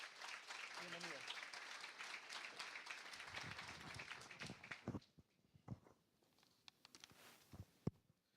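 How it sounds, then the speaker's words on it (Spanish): An audience at a lecture on personal finance claps to welcome the speaker, a full burst of applause that thins into scattered claps and shuffling after about five seconds, with a voice briefly over the start. "Un fuerte aplauso, por favor."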